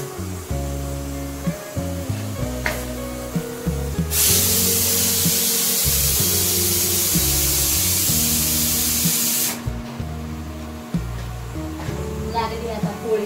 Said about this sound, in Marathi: तेल चोपडते आता पोळी